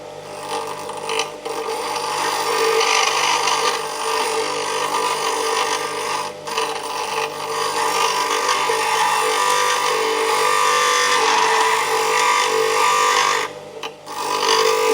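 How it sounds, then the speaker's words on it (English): Grinding wheel removing flat spots from a metal bump stop part during kinetic log splitter repairs, a steady, loud abrasive grinding that runs almost the whole time with only brief dips and no talking. "We'll get the grinding wheel fired up, and we'll get those flats removed."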